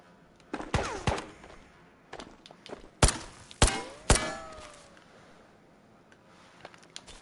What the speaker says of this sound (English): that guy's just trying to shoot me through the building over there